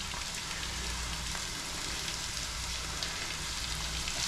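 Onions and garlic sauté in a pan, a soft steady sizzle with fine crackling that sounds close and fairly quiet and runs unbroken throughout.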